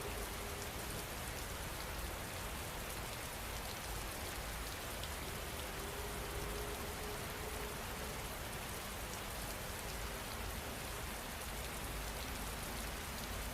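Steady, even rainfall patters on a surface without pause, a dense close hiss holding at a constant level from start to finish.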